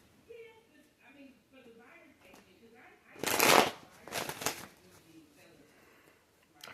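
Tarot cards are shuffled in a couple of quick, crisp riffling bursts, close and clear, while a person talks softly before and between them.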